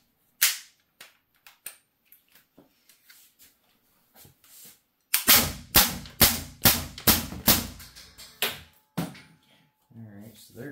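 An HDR 50 less-lethal pistol with parts removed fires a string of sharp, loud pops, first a few scattered shots, then a rapid run of about a dozen close together.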